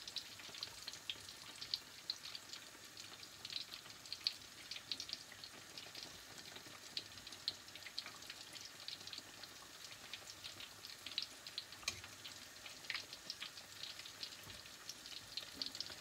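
Low-carb apple donut batter cooking in a pan, a constant soft sizzle with scattered crackles and pops, steady and fairly quiet with no voices.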